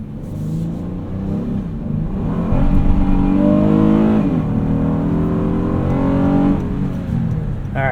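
A Honda Odyssey Elite on Bridgestone Turanza tires accelerates hard from close by, its engine revving up in a rising drone with a brief chirp of wheel spin, and no talking.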